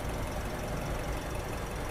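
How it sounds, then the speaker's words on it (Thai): A 2019 Toyota Yaris Ativ 1.2 with CVT idling with its engine bay open: a faint, steady mechanical hum with a light ticking texture, even and unbroken, heard from nearby without any talk. "นี่ก็จะเป็นห้องเครื่องแล้วก็เสียงเครื่องยนต์นะคะ"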